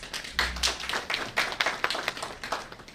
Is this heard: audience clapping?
yes